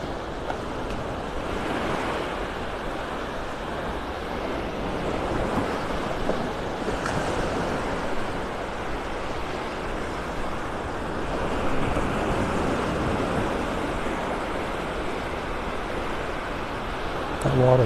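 Ocean surf breaks steadily on a shallow beach in North Naples, Florida, a continuous broadband wash of waves with soft swells in intensity and some wind noise across the microphone, heard alone without talk.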